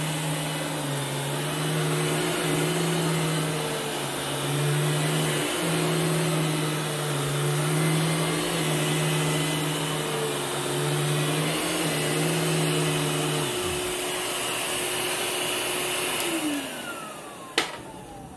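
A classic American Royal 4700 Powertank vacuum cleaner runs steadily with a loud, droning motor hum and airflow roar, then winds down near the end, leaving a brief thump.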